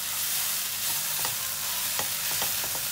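Chicken tandoori filling with spices and chili sauce sizzles in a non-stick pan, with steady frying hiss and a few light stirring scrapes and taps throughout.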